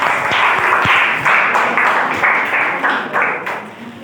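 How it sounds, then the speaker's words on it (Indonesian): A classroom audience breaks into applause, a dense wash of many hands clapping steadily for about four seconds, fairly close and loud, with no talk over it. "sekali lagi aplaus dulu"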